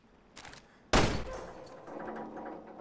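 Gunfire in Resident Evil Revelations 2: one loud, close shot with a sharp burst after a faint earlier thump, then a ringing, echoing tail of game ambience.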